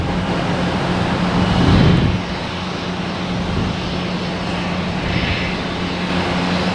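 Airliner jet engines roar steadily at Boston Logan Airport at night, a loud continuous rumble with a brief swell near the start, sustained without voices.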